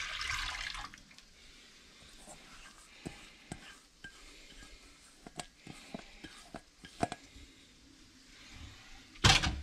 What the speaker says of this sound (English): And then I will pour off the liquid here and reserve the starch.